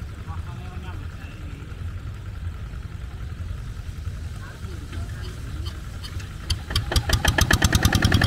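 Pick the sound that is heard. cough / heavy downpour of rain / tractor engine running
tractor engine running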